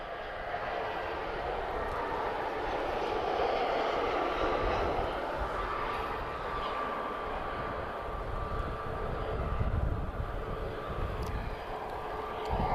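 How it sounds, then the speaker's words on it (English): A TAP Air Portugal Airbus A319 arriving at Lisbon airport makes a steady, distant jet roar that swells a little and then stays level, with no voices. "TP673 arriving from Amsterdam. We've got an A319."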